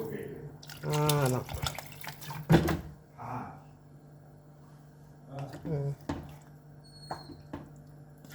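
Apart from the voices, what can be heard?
water poured into a pot of lentils with beef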